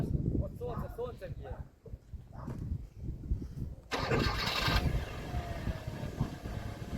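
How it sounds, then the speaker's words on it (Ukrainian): Voices talk at a used car market in Kyiv, then a car engine cranks and catches, settling into a steady running rumble under continued chatter. "Ну мотор як часики заводиться."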